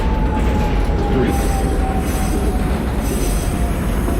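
An NYC Subway R68 train in the OpenBVE simulator squeals on its wheels, a loud sustained high-pitched tone over a steady rumbling rail roar that continues throughout.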